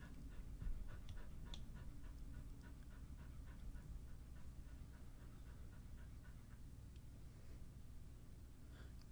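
A dog panting steadily and rapidly in quick rhythmic breaths, close and continuous throughout, with no talking.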